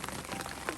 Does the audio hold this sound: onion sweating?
no